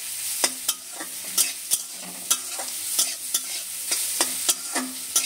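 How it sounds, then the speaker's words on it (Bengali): Carrots fry with leftover rice in a pan, a soft steady sizzle broken by repeated sharp scrapes of a spatula stirring about every half second, close and clear with no voices. "আবার একটু নেড়ে নিচ্ছি ভালোভাবে"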